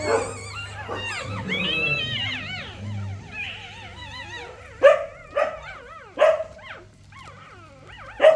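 Several dogs bark in short, sharp bursts near a home with a newly born litter of ten puppies, after softer whines and yips at the start. The barks come in a loud, uneven series with no speech.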